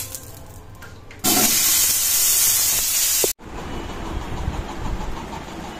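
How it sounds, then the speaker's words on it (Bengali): Black cumin seeds hit a hot pan with a sudden loud hiss of sizzling that holds steady for about two seconds, then cuts off and gives way to quieter frying and kitchen noise. "দেখো এখানে ধোয়া উঠছে, কালো জিরে দিয়ে গেছি।"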